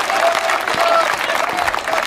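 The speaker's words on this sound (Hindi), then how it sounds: "बहुत अच्छे, तालियां।" Audience at a live Hindi comedy show bursts into dense, loud applause, steady clapping filling the short moment.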